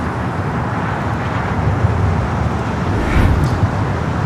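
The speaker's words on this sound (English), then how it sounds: "A Spirit flight just touching down here on the south side." Spirit Airlines plane touching down on the south-side runway at Los Angeles International Airport: a distant, steady broadband roar that swells slightly near the end, heard without voices.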